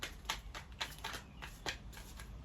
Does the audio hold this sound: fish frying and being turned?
no